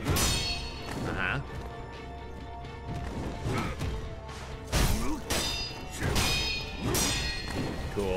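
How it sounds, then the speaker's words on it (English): Firecrackers going off in the video game Sekiro: Shadows Die Twice, a series of sharp cracking bursts and thuds mixed with combat whooshes and impacts, loud and close at irregular intervals. "Really? Your firecrackers do damage?"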